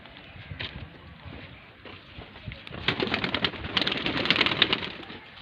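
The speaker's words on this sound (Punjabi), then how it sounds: "ਪਰ ਹੈ ਸਿਆਲ ਕੋਟੀਆ ਕਬੂਤਰ" A Sialkoti pigeon coos softly among other birds, its murmuring calls rising and growing busier in the second half, near and fairly quiet with no clear speech.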